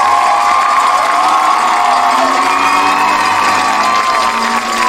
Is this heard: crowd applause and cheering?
yes